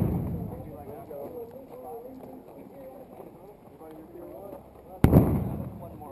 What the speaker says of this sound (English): Grenade! Grenade to the right!